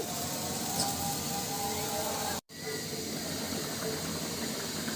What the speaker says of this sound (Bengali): ঝোলটা কত সুন্দর ফুটতে শুরু করেছে